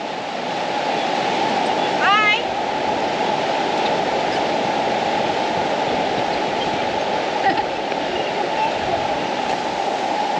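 The Hollyford River rushes loudly and nearby, a dense, steady roar of moving water that fills the whole span, with a brief faint whistle-like sound early on.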